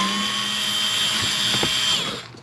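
A power driver with a T25 Torx bit whirs steadily while removing rivets from an interior panel of a Fiat 500, loud and close, with a few clicks near the end before the motor winds down.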